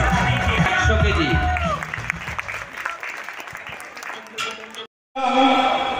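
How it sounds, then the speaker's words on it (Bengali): Audience applause at a school's 75th anniversary ceremony, a loud crowd clapping that fades out, followed by a voice over the sound system. "একবার হাততালি দিয়ে উৎসাহিত করতে হবে"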